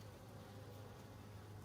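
Honeybees buzzing at an open beehive being inspected, a steady faint low drone with no talk.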